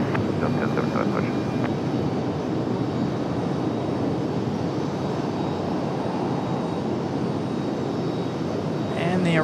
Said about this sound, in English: the arrival of the American from Charlotte. A nice smooth touchdown for the A321.